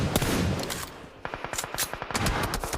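Rapid automatic gunfire in the mobile battle royale game PUBG Mobile, heard during a World Cup match broadcast, rattles in loud, close bursts of quick shots, with a brief lull before another dense volley.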